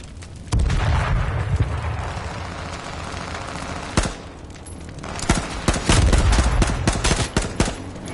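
Loud gunfire in the video game H1Z1, an AR-15 among the weapons, with rapid bursts and sharp single shots that come close and hard, broken by a short pause before another heavy volley.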